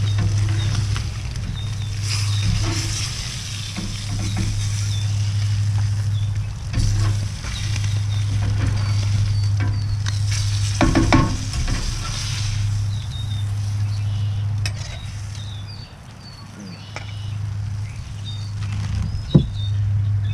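Blackened speckled trout fillets sizzle steadily on a hot outdoor chuckbox griddle, with occasional scraping clinks of a metal spatula and a low steady hum underneath.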